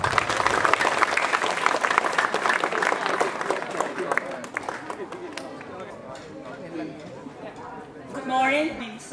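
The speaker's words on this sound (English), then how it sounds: "Please give a big round of applause." Audience applause for a teacher called to the podium at a school event: a dense, steady round of clapping that gradually thins and fades, followed by a voice beginning to speak near the end.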